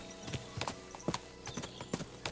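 Horse hooves clip-clopping at a steady walking rhythm in the video game Kingdom Come Deliverance 2, the horse crossing rough off-road terrain, the irregular thuds quiet and fairly close with no speech.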